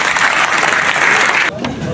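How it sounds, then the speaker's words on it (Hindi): Loud, dense applause fills a Maruti Suzuki Alto K10 delivery fest crowd for about a second and a half, then drops off abruptly as a voice begins speaking over a few lingering claps. "जोरदार तालियां इन सबके लिए।"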